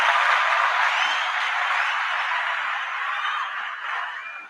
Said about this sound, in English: Let's clap him up a little quick.